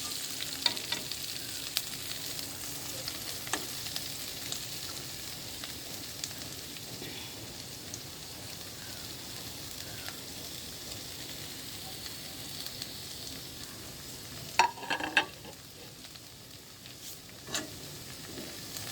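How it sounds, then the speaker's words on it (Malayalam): Agathi (hummingbird tree) leaves sautéing in hot oil with popped mustard seeds for a thoran: a steady, close sizzle throughout, with a few brief scraping stirs near the end and no voices. "അത് എണ്ണയിലിട്ട് നന്നായി വഴറ്റുക."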